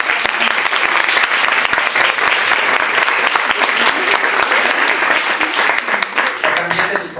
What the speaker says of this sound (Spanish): Un aplauso para sus alumnos.